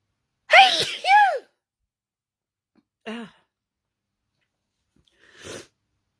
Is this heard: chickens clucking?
no